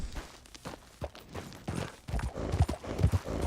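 Horse hooves clip-clopping at a walk in Red Dead Redemption 2, a run of uneven hoof hits growing louder and heavier toward the end, close and alone.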